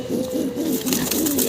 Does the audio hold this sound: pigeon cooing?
yes